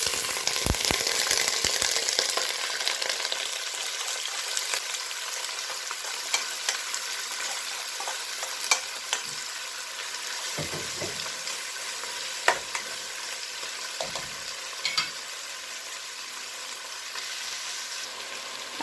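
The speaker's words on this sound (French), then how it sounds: "maintenant dans mon faitout, je mets de l'huile à chauffer. Et donc maintenant, je vais rajouter donc les légumes" Vegetables for a minestrone sizzle steadily in hot oil in a cooking pot, a bright continuous frying hiss with occasional crackles and stirring scrapes, close up and with no voices.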